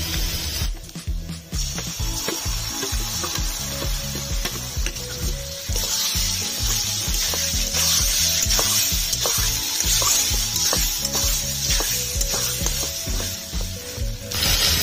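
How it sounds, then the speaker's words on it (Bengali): Ground pointed gourd fries with previously fried onions in a pan, a constant loud sizzle with scraping stirs throughout. "পেঁয়াজটা ভালো করে ভেজে নিয়েছি, দিয়ে দিচ্ছি বেটে রাখা পটল।"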